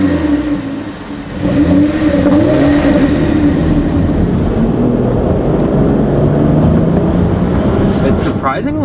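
BMW X3 35i SUV with N55 turbocharged engine accelerating hard with traction control off; a loud, steady engine roar climbs through the gears, heard from inside the cabin, with a voice talking over it.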